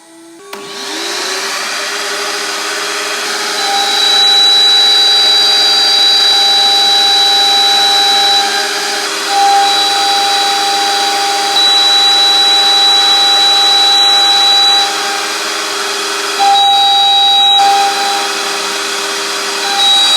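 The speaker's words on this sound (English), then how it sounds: "Now I put the vacuum on and we'll do some cutting on that piece" A loud, steady shop vacuum roar starts up and runs throughout, with a high whining tone and intermittent gritty bursts of a CNC router cutting a workpiece under a dust shoe layered on top; no talking.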